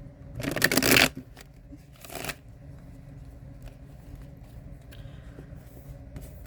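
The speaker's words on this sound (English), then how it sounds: "I'll try to shuffle over here and lay the cards down over there" Tarot cards are shuffled twice in quick riffling bursts, the first longer and louder, then a quiet room with faint rustles.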